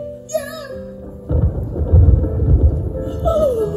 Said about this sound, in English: Oh, oh, listen to that thunder!